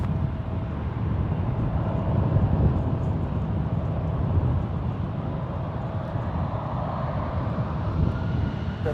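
An airliner taking off from runway 1 right at San Francisco International Airport, heard as a steady, broad engine roar that holds at an even level throughout, with no talk.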